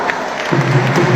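Crowd applause breaks out at a Batak celebration party, a brief burst of dense clapping with a steady tone running beneath it through the second half.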